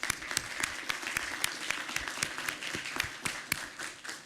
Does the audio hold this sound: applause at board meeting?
yes